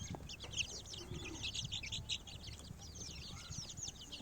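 Soft clucking from a laying hen over a busy chorus of chirping birds, steady and fairly faint throughout.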